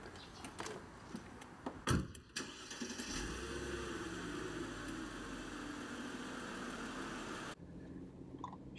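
The electric steering column of a Mercedes-Benz W220 S320L glides in and up with a steady, faint motor whir heard close inside the cabin, preceded by a few clicks and a door-like thump, then a quiet tail.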